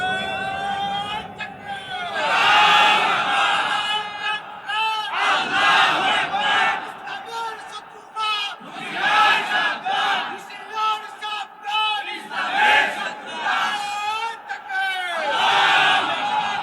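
A crowd at a religious sermon shouts slogans together in loud rhythmic call-and-response bursts that repeat several times, with an amplified voice leading between the chants.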